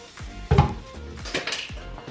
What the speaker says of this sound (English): Now I'm just gonna stir it up.